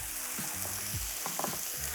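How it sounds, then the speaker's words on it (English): Steady sizzling of peppers frying in a hot pan, with a few soft stirring scrapes mixed into the constant crackle. "they're gonna just slow down that frying process"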